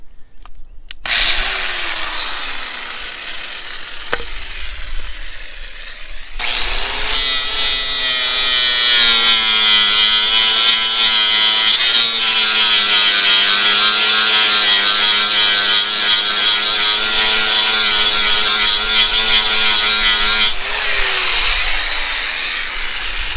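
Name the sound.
DeWalt angle grinder running on portable solar generator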